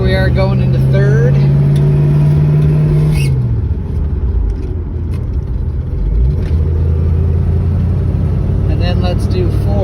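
A 1963 Ford Falcon Futura's engine shifting into third gear: a loud, close engine hum drops in pitch as revs fall during the shift, then settles and climbs again, with a voice talking over it.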